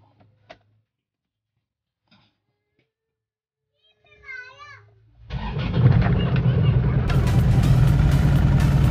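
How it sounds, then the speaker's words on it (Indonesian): An Isuzu Panther engine cranks and catches, settling into a loud, steady idle heard from inside the cabin after a few quiet clicks and brief low sounds. "Mari kita nyalakan mesinnya dulu."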